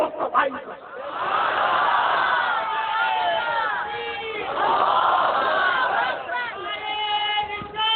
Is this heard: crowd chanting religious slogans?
yes